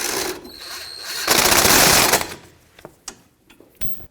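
A mounting bolt is snugged down to hold the front brake hose on the strut of a 2003-2008 Toyota Corolla, a loud burst of rapid ratcheting and whirring followed by a few sparse metallic clicks, close up and without speech.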